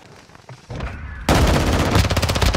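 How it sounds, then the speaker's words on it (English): Heavy automatic gunfire in Call of Duty: Modern Warfare II, starting with scattered shots and then turning into a loud, dense, continuous barrage of rapid bursts close by. "Oh, damn, that's a lot of bullets"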